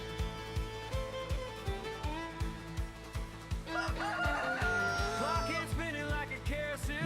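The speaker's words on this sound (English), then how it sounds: "Don't ask me where they came from, but I got wild roosters." Wild rooster crowing over steady clucking and repeated thumping, close and fairly loud, with several birds calling over one another.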